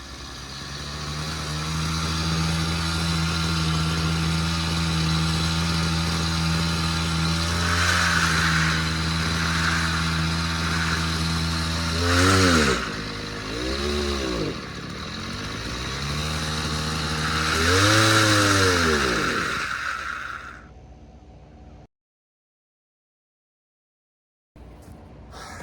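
A small gasoline-powered engine drill running steadily at a loud, close level, with its pitch rising and falling in several revving swells before it cuts off abruptly, leaving near silence and then a brief return of sound.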